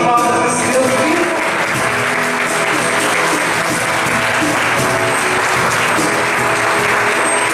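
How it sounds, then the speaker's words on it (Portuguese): Congregation applause during a church sermon, a loud sustained clapping from many hands that stays steady throughout, with a faint musical hum beneath and no talking. "Uma salva de palmas para esse Deus vivo."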